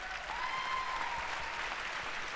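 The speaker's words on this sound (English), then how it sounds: "Don't cheer" Studio audience at a live political podcast taping bursts into steady applause with some cheering, a dense, even clatter of clapping hands sustained throughout, with no talk over it.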